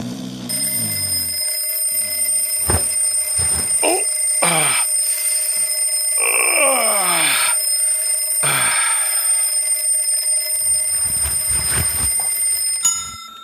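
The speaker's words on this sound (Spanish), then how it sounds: "después de apagar un viejo despertador de cuerda que no le había fallado nunca" An old wind-up alarm clock rings with a bright, continuous metallic bell for about twelve seconds, loud and close, with clattering mechanical strikes underneath before it stops abruptly.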